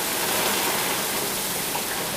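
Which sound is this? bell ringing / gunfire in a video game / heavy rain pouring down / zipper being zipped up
heavy rain pouring down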